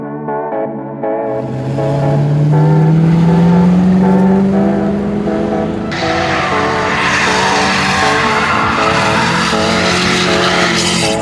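A drift car slides across grass at the Freedom Factory drift event, its engine revving to a loud, rising howl with a sustained squealing skid and no talking.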